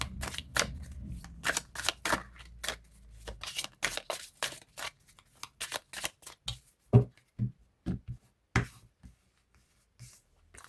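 Tarot cards are shuffled and drawn on a table, starting with a brief riffling flurry and followed by a long series of sharp, separate flicks and taps of cards being laid down, close and quiet.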